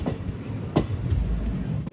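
A steady, close rumble from the Chennai Egmore Express coming into Madurai Junction, with a couple of sharp rail knocks standing out.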